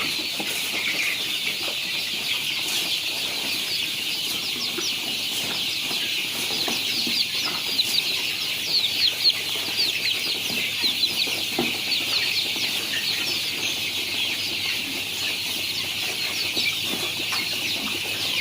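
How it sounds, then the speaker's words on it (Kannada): One-month-old native chicks on a farm peep and chirp continuously in a dense high chorus, with occasional soft clucks and rustling, fairly close and steady throughout. "ಇಲ್ಲಿ ಕಾಣ್ತಾ ಇರೋ ಮರಿಗಳು ಈಗ 1 ತಿಂಗಳ ಮರಿಗಳು"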